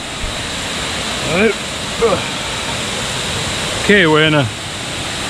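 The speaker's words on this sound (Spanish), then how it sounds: "Vean qué buena catarata, amigos. Esta sí está alta." A tall waterfall in Bajos del Toro, Costa Rica, gives a steady, loud, broad roar throughout, with someone speaking Spanish over it in short bursts.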